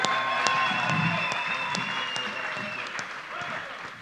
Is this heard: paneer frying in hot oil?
no